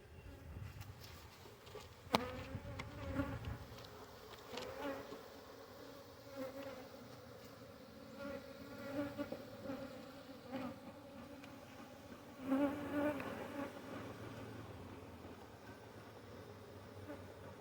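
Honeybees buzzing around an open hive during a winter brood inspection, a steady close drone with louder swells as bees pass near, alongside occasional handling knocks and no talking.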